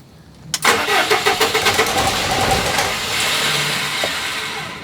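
A truck engine at close range cranks with a quick run of rhythmic starter turns, catches, and settles into a loud, steady running rumble.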